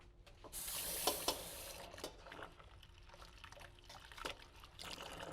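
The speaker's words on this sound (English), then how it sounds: "I'm going to add a little bit more water though" A little extra water is poured into a vegan burger mixture, a faint splashing trickle with a brief brighter burst, followed by soft scattered stirring and clinking sounds.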